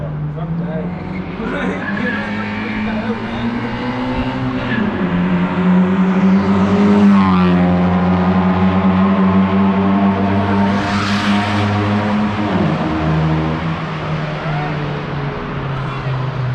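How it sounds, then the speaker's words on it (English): A diesel BMW 530d's engine roars and revs steadily on a race track, pitch rising and falling through gear changes, loud and close throughout. "Who said diesel cars can't be fast?"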